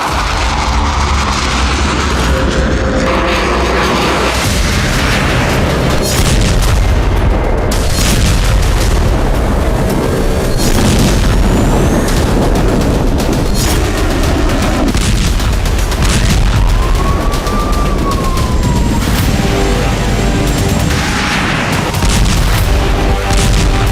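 Bomb explosions from Israeli strikes in Lebanon: loud, heavy booms and rumbling blasts recur throughout, with dense low-end impacts, crackling debris and some distant traffic-like noise between them; no talking.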